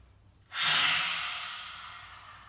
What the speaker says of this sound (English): Open the mouth wide, breathe out through the mouth with the tongue out